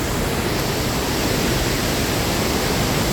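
The Pla Ba waterfall gives a dense, steady rush of falling water, loud and continuous with no breaks and no voices.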